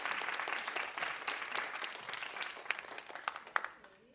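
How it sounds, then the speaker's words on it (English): Applause rises from an audience at a live podcast event for Lyndie Greenwood, with dense clapping that stays moderately loud and then thins into a few scattered claps before fading out. "Please give her a round of applause."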